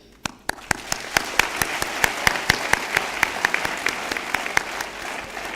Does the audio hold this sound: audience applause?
yes